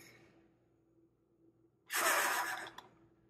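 One deep, forceful exhale blown into a breathing exerciser gives a single close, breathy rush lasting under a second after a quiet pause.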